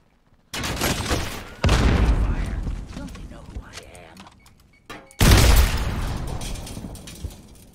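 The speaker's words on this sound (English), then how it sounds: "I was shooting from the top." Video game gunfire, loud booming shots and bursts close up, in three heavy blasts with decaying rumbling tails, with voices speaking around them.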